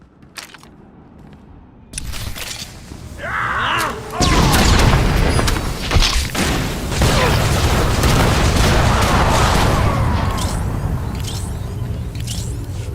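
Blaster gunfire in the video game Star Wars: The Old Republic, loud rapid bursts and booming shots erupting after a quiet start and filling the rest of the scene with dense, sustained firing.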